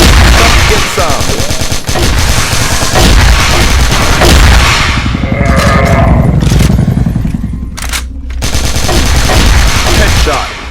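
Rapid sustained bursts of KAC ChainSAW machine-gun fire in the Crossfire shooter game, loud and close, rattling on with brief gaps and game effects mixed in.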